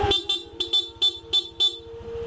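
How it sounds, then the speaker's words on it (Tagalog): Five short, loud honks from a stock horn on a Honda ADV motorcycle in an irregular sequence, with a low engine idle pulsing steadily underneath. "stock horn"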